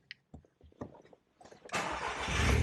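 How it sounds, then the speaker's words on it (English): A VW Golf GTI mk5 engine cranks with a few stuttering turns and then catches, settling into a steady, loud idle close by, after some faint clicks and handling sounds. "So if I start this car now"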